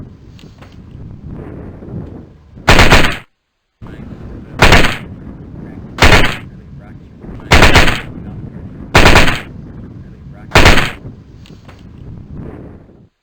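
Six short bursts of automatic fire from a 9mm weapon with a stamped receiver, fold-out stock and grip safety in the game Rainbow Six: Rogue Spear, loud and evenly spaced over a low rumbling ambient background.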